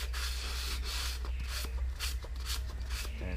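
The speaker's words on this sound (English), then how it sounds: "I'm just going to be using this bottle and sandpaper, very fine sandpaper" Fine sandpaper rolled around a bottle rubs back and forth inside the cylinders of a Honda F22B engine block, a close, steady scraping with repeated strokes under a constant low hum.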